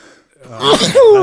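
A single sharp human sneeze bursts out after a brief quiet, loud and close. A voice follows right after it.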